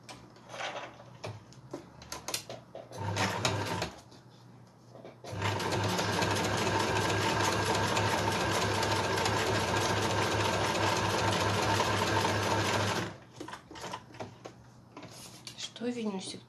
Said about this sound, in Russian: сейчас я еще прошью по периметру, чтобы тоже у меня была швейная строчка